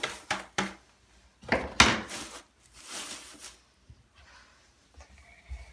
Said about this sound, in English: Then you go back over and you sweep until most of it is gone.